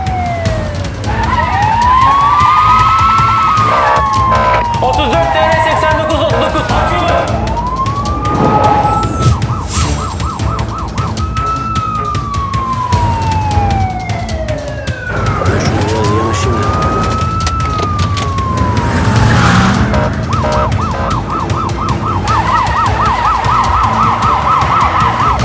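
An ambulance siren wails loudly in repeated rising and falling sweeps, switching at times to a faster yelp pattern, heard amid city traffic as the vehicle passes close by.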